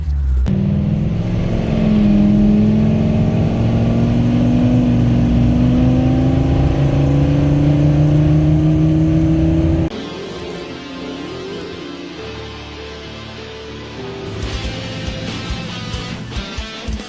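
Ford F250 step side truck engine revving loudly up close, a rumbling rise in pitch over several seconds, then dropping back to a rougher idle with some mechanical clatter.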